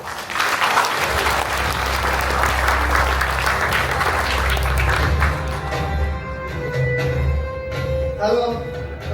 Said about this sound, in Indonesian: Mari kita sambut dengan tepuk tangan yang paling meriah